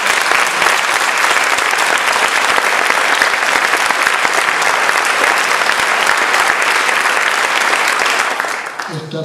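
Sustained, loud audience applause at a book presentation in Cazorla, Spain, steady dense clapping filling the room for about nine seconds before tapering off at the very end.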